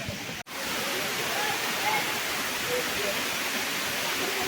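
Langkangtui waterfall near Umrongso, Assam, roars in a dense, constant rush of falling water, close and loud, with a brief dropout near the start.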